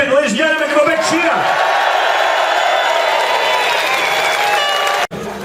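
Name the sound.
crowd cheering at a Scottish independence rally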